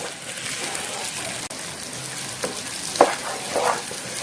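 Spicy masala beef rice stirred in a pan over high heat, a steady crackling sizzle like light rain with scraping stir strokes and occasional louder clinks of the utensil against the pan.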